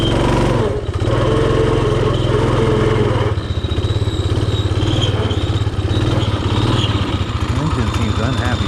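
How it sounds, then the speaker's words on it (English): A Rokon motorbike strains hard on a switchback climb while its worn clutch belt slips, giving a loud, continuous, close engine drone with rough, labouring fluctuations throughout. "You can hear the belt slipping. Straining and slipping."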